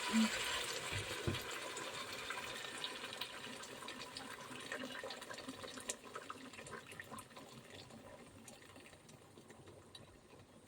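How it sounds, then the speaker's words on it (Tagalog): Water pours steadily into a pan, a soft continuous rush with small clinks near the start, gradually fading lower over time. "lagyan natin siya ng tubig."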